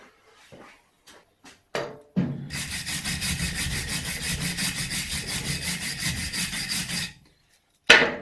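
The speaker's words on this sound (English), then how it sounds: "I'm just going to mark the casing so we get the orientation right" A marker pen scribbles on a Ford Courier alternator casing, with fast rhythmic squeaky rubbing strokes that run steadily for about five seconds, close up, after a few light taps.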